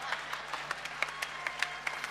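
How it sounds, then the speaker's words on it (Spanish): Sparse, faint audience applause at a 2018 murga performance, scattered individual claps in an uneven rhythm heard from a distance over low background murmur. "Más fuerte el aplauso para Walter Cucuzurica."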